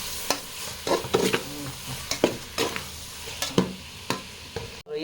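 Spice masala for prawn curry being stirred in a pan, with a spoon scraping and clacking in irregular strokes over a low sizzle, close and fairly loud with no talking.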